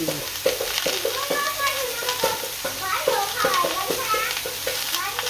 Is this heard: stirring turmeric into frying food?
yes